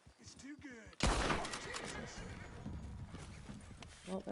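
Horse hooves clatter in a Western video game near a sheriff's station, a loud burst of clip-clop mixed with rapid gunfire and a whinny, with a voice talking over it.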